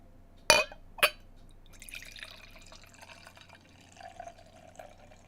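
Dark Imperial Stout beer pours into a snifter glass, two sharp clinks of glass at the start followed by a soft, bubbling liquid trickle that fades toward the end.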